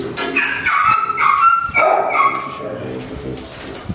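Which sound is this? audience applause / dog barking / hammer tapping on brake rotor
dog barking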